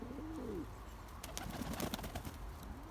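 Pigeons coo softly in a loft, giving a few low, rolling calls against a steady background hum, with faint rustling and light tapping.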